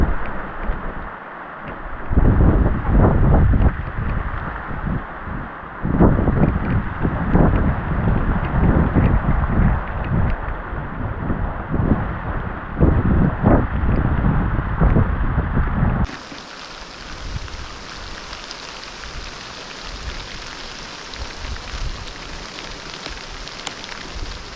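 Heavy rain and strong wind sweep over a farm, a loud dense roar of falling rain with gusting bursts that drops to a softer, steadier downpour toward the end.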